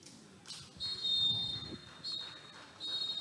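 A referee's whistle blows at the end of a football match between Crystal Palace and Renown SC, several shrill sustained blasts heard fairly faintly over the low murmur of a crowd.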